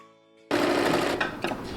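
After a brief quiet moment, a sewing machine starts up and runs in a fast, steady, loud whir while stitching the seam of loose palazzo pants.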